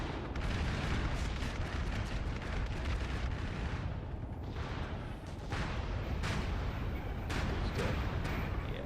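Bombing run and explosions in the video game MAG: dense, continuous rumbling blasts and booms fill the whole stretch at steady high loudness, with sharper bursts breaking through near the end.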